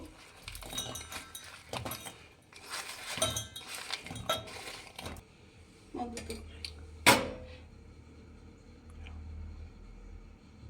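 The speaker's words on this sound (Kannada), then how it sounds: "ಬೆಲ್ಲದ ಪಾಕ ಮಾಡ್ಕೊಳ್ಳೋದಕ್ಕೆ ಒಂದು ಪಾತ್ರೆ ಇಟ್ಟಿದ್ದೀನಿ ಇದಕ್ಕೆಲ್ಲ ಬೆಲ್ಲ ಹಾಕಬೇಕು" Lumps of jaggery tumble into a metal cooking pot to be melted into syrup for akki thambittu, giving a run of clinks, knocks and rattles followed by a louder clang, then quiet.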